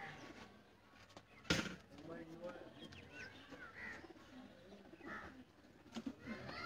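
A pigeon coos repeatedly among other birds and a few chirps, with a sharp knock early on and a person talking faintly in the background.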